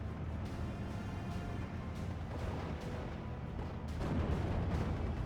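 Panzerfaust launches and explosions from a WWII tank-battle video game, a continuous rumbling barrage of booms and gunfire with a heavier swell toward the end.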